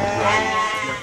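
Sheep bleating on a Ugandan farm raised for profit: one sustained, wavering bleat about a second long, close and loud, with no other sound around it.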